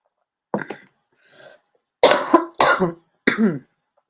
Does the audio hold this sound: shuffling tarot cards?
no